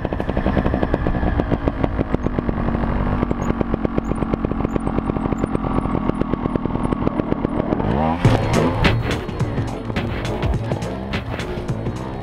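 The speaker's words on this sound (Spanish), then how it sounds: "Un recorrido de moto sobre un puente" A motorcycle on a stunt ride across a bridge drones loudly and close with a steady buzzing engine note, then roars as the engine revs and shifts pitch toward the end.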